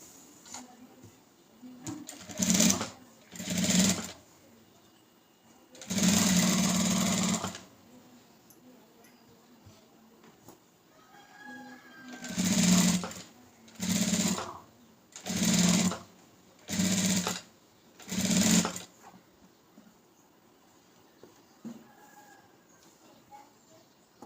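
A sewing machine stitches blouse lining in a row of distinct bursts, one long run and several short, evenly spaced ones, with quiet pauses between them and a soft room background.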